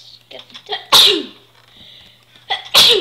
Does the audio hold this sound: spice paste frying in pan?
no